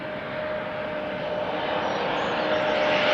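A KLM airliner arriving at Schiphol from Brussels gives a steady, moderately loud jet rush with a thin whine, swelling slightly as it nears, with no talk over it.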